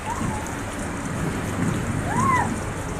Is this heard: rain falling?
yes